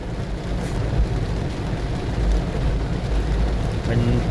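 Heavy rain pours down in a dense, continuous roar, loud and steady throughout, with a low rumbling undertone.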